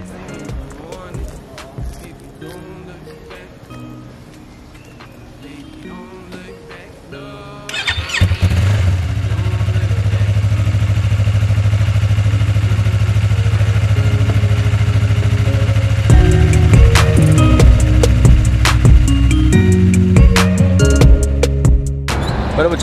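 A motorcycle is started with a few quieter mechanical clicks and sounds, then the engine catches and runs loudly and steadily up close, revving higher near the end.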